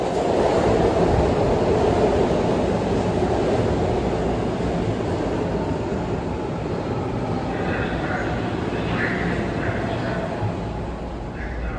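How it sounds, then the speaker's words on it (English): Continuous rumble and roar of a westbound heavy rail rapid transit L train in Philadelphia running along the rails, steady and fairly loud throughout, with faint higher squeals near the end. "We are taking a westbound L train all the way to the end"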